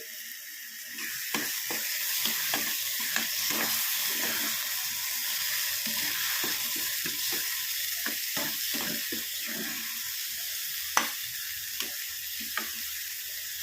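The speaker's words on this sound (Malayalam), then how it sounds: "നമുക്ക് അരപ്പും അങ്ങ് ഒഴിച്ച് കൊടുക്കാം." Coconut, garlic and cumin paste being poured into a hot pan and cooking, giving a steady close sizzle with scattered crackles, scrapes and clicks throughout, with no talking.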